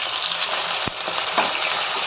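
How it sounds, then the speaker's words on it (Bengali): Water splashed into a pan of fried potatoes sets off a loud, steady sizzle and crackle, with a couple of sharp pops and no voices. "আলুটা ভাজা হয়ে গেছে, এখানে একটু জল দিয়ে দিচ্ছি"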